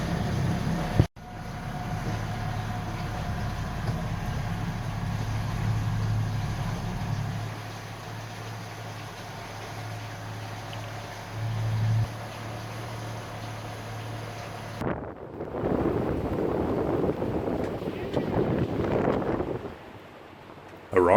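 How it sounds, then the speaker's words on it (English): A sailboat's engines motor out of a lock chamber: a steady low engine drone with wind buffeting the microphone, and louder wind and water noise in the later part. "we've just started the engines and we're now motoring out of the lock."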